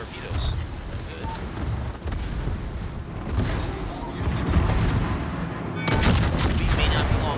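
Heavy naval artillery hits and booms pound a battleship in World of Warships, a dense roar of shellfire and explosions that swells near the end, with a voice talking over the din.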